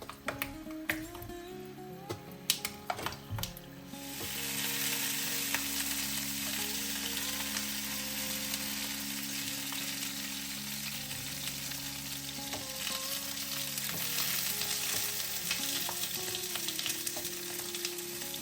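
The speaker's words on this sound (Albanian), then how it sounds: "në një tigan të cilën kam hedhur vaj lule dielli, do të vendosim specat dhe do t'i skuqim në temperaturë mesatare" Bell peppers fry in sunflower oil in a pan over medium heat with a loud, continuous close sizzle. A few taps and stirring clicks come early on, and then the hiss settles into a steady crackle.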